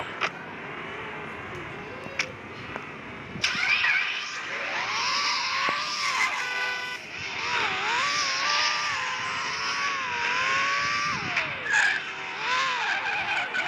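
A video game car revs and drives with a loud, continuous engine whine that rises and falls through gear shifts, with tire skids and screeches along the way and no talking.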